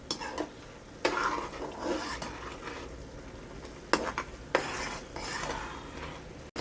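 A spoon scrapes and stirs melted jaggery in a pan on the stove for a jaggery rice dessert, with bursts of scraping strokes over a soft steady sizzle and no talking.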